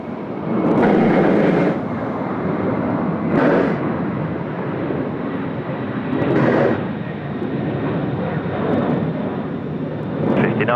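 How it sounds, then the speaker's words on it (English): A Qantas airliner departing Sydney Airport for Tokyo Haneda gives a sustained distant jet roar with a rumbling low end. The sound swells and eases in periodic surges, with little else audible. "There we go, Qantas 59er off to Tokyo Haneda."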